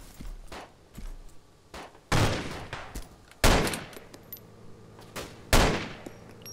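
In DayZ, gunfire rings out as a string of sharp shots at uneven intervals, three of them loud and booming with fainter cracks between. The shots sound fairly close, with no talking over them.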